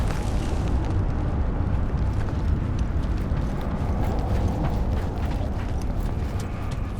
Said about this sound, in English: Tremors have intensified.